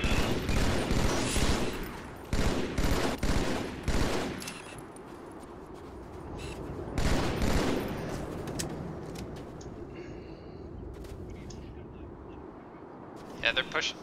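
Rapid automatic gunfire aimed at a Banshee aircraft in a Halo 8v8 Assault match on Containment, loud bursts in the first four seconds and again around seven to nine seconds, with players talking over the shooting.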